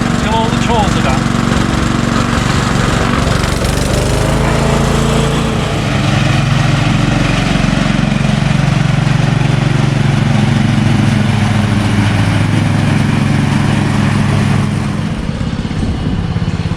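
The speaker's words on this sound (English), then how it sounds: "now somebody wants to have a drive of the mower" A lawn mower engine running steadily at close range, loud and continuous throughout.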